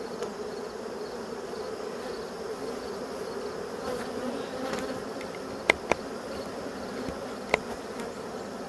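Honey bees buzzing steadily around an open hive, a dense continuous drone close by with a few faint clicks, no voices.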